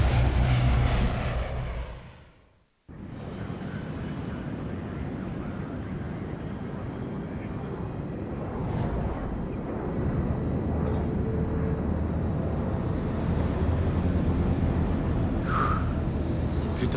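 Steady engine drone inside an airplane cabin in the Splinter Cell Blacklist video game, a loud, broad roar that continues without a break after a short silence, with voices talking over it.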